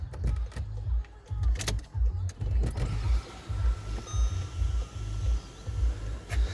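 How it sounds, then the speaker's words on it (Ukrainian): A Volkswagen Tiguan's electric motor hums and whirs with rhythmic mechanical clicks as its panoramic sunroof slides open, with a few creaks and taps. "Бачите панораму, зараз вам покажу, як вона відкривається."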